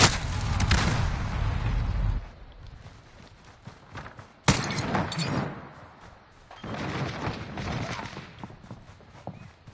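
A stun grenade goes off in a Call of Duty match, a loud broadband burst near the start, then a second sharp blast midway amid scattered gunfire, footsteps and game noise.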